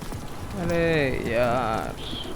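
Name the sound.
rain in Guardians of the Galaxy video game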